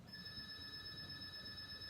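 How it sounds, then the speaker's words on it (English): A telephone rings somewhere outside the room, a faint, steady electronic trill that persists through the whole moment over a quiet background. "and it's a phone that's ringing."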